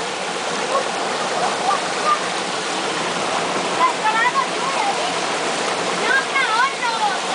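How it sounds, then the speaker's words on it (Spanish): A creek's current rushes in a constant broadband wash during the rainy season near Tecolotlán, close and steady, with faint voices and thin high calls now and then above the water. "Aquí bañándonos en esta corriente de este arroyo"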